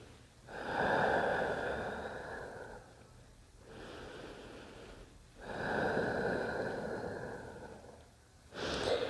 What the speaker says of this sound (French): Inspire tranquillement et expire tranquillement.